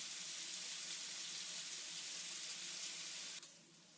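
Meatballs sizzling inside a closed toaster grill make a steady, dense hiss that holds evenly at close range, then drops off abruptly near the end.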